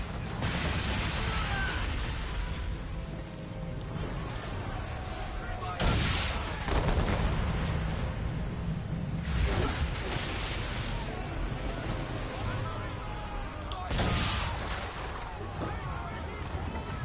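Ship cannons boom during a naval battle in Assassin's Creed III aboard the Aquila, with several heavy blasts spaced several seconds apart over a continuous roar of sea and wind while someone talks intermittently.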